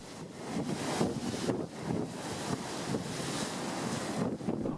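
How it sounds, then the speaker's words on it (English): Steady wind buffets the microphone aboard a hydrofoil crossing the bay toward Peterhof, a constant loud roar with water rush beneath and no voices. "we're taking the half-hour hydrofoil ride across the bay."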